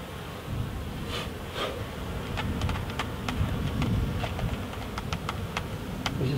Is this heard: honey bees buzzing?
yes